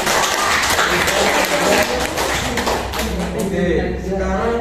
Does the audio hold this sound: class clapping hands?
yes